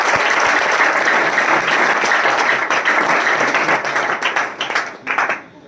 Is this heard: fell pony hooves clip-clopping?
no